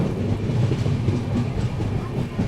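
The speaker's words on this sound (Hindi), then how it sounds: "ट्रेन हमारी जो है लक्ष्मीबाई नगर रेलवे स्टेशन को स्किप कर रही है।" An Indore to Kota Ranthambhore express train rolling through Laxmibai Nagar station without stopping, heard from aboard as a continuous low rumble with rhythmic clickety-clack of wheels over rail joints, steady and moderately loud.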